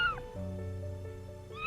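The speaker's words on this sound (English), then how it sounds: "Inside, curled up and shivering, was a tiny kitten" A tiny kitten shivering in a damp cardboard box meows softly, one faint drawn-out cry with a short squeak at each end, heard alone and close.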